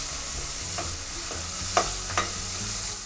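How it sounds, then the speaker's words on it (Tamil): Small shallots sizzle steadily while being sautéed in a pan for a tamarind vatha kuzhambu, with a couple of sharper stirring scrapes of a spoon against the pan, close and without talk. "ஸோ வெங்காயத்தை கொஞ்சம் நேரம் வதக்கி விட்டுக்கலாம்."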